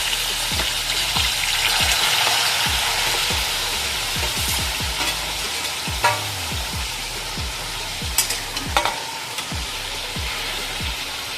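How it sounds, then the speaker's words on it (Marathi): Steady loud sizzling of mutton frying in hot oil in a wok, with repeated scraping and stirring strokes and a few sharp clinks, no voices. "कढईमध्ये तेल टाकलंय आता याच्यात टाकूया"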